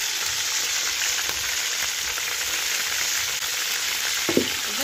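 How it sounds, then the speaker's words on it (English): Onions and cold milk cook in a pan in a village kitchen with a constant, loud frying hiss, a faint clatter near the end. "Then I cook until the onions and the cold milk is ready."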